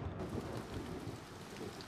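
A thunderstorm in the video game A Bird Story: steady rain hisses over a low, continuous rumble of thunder, fairly faint and without voices.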